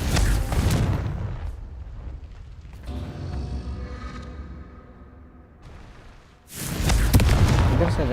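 In the Hogwarts Legacy video game, a Confringo blasting spell erupts with loud, rumbling explosive bursts, first at the start and again near the end, separated by a quieter stretch of creaking, mechanical game ambience.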